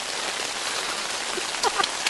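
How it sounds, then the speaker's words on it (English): Steady rain falls outdoors on a cold day, a dense, even hiss of drops pattering on surfaces with a few brighter drips near the end, no voices. "It's raining."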